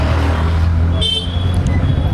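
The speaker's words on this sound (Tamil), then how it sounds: "டிராஃபிக்கை பாருங்கள் நீங்கள்" Steady road traffic on a misty hill route near the lake at Kodaikanal, with cars and other vehicles idling and rumbling in a queue. A brief horn toot rises above the continuous engine noise about midway through.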